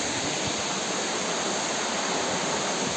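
Waterfall in the Manpada forest near Thane, a constant hiss of falling water at a steady level with no voices.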